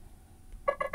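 A Nothing Phone 2 glyph ringtone starts softly after a quiet lead-in, three short bright electronic chime bursts in quick succession, fairly faint and close.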